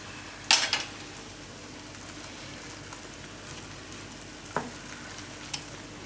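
Spices are stirred into a mixed dal vadi curry in a pan: a quiet sizzle with a sharp utensil clack at the start and a couple of softer scrapes and knocks later.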